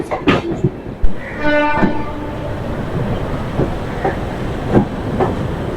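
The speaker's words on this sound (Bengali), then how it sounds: "আমরা হাওড়া স্টেশন ছেড়ে বেরিয়ে যাচ্ছি" Indian express train, the SMVT Bengaluru SF Express, pulling out of Howrah station at dawn with a local train running alongside; steady rumbling rail noise with wheel clacks and a brief horn-like tone, heard from inside the coach.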